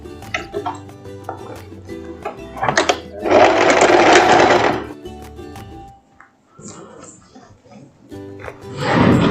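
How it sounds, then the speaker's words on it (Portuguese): A sewing machine stitching elastic onto a skirt waistband, running in loud bursts of steady buzzing whir with pauses and handling clatter between runs. "agora nós vamos costurar a parte do elástico aqui na saia."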